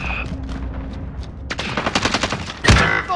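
Gunfire in Call of Duty Warzone on PS5, with a few scattered shots early, then a dense burst of rapid automatic fire and a loud, close blast near the end.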